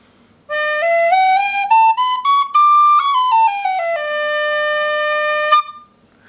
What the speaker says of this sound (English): So that's Irish tin whistle.